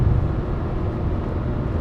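Porsche 911 Turbo cruising slowly with the windows up, a steady low intake drone and rumble from inside the cabin, no talking.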